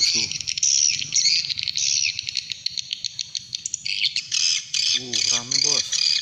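Edible-nest swiftlets calling near a swiftlet house, a dense run of high, buzzing chirps and twittering squawks that is close and continuous, with someone talking over it.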